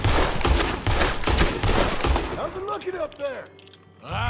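Rapid gunfire in Red Dead Redemption 2, a dense burst of loud repeated shots for about two seconds, then fading echoes and a brief voice.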